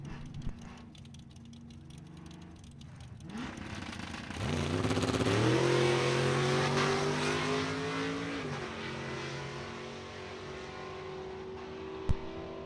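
A Malibu and a Mustang launching side by side in a heads-up index drag race at a drag strip: quiet idling, then a sudden loud roar rising in pitch that holds for several seconds, fades as they pull away, and ends with a sharp click.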